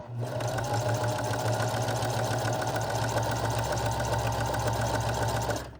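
A Singer M3220 sewing machine stitches a straight seam in a steady, continuous rapid whirring rattle, loud and close, running for several seconds without speech.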